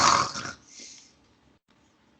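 A voice imitates the Ultimate Warrior's wrestling snarl, a short, loud, raspy growling snort up close that lasts about half a second and then fades into quiet.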